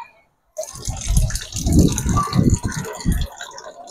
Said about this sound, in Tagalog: Bumabagsak yung tubig dyan.